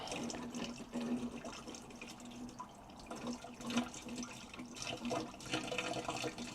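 Iron-removal cleaning solution mixed with warm water trickles and splashes into a Whirlpool water softener brine tank onto salt, a faint, continuous liquid pour with small irregular drips throughout.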